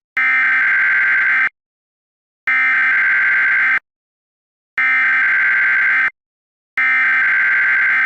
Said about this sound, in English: What you just heard is the audio header of the United States Emergency Alert System.